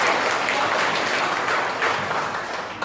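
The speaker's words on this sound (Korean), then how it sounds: "우리 친석이한테 박수 부탁드려요" A church congregation at a children's Mass applauds for a child, a full, even wash of clapping from many people, sustained and fairly loud before tapering slightly at the end.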